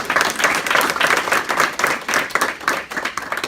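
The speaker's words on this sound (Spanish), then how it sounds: "Démosle un fuerte aplauso al Señor." A church congregation applauds loudly and steadily, with dense, sustained clapping from many hands throughout, while the crowd murmurs faintly underneath.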